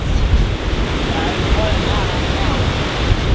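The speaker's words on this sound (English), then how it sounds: "That was a really big gust that just came through" Strong wind of about 26 mph roars and buffets the microphone in a continuous rumble aboard an old trawler, with faint voices barely audible beneath it.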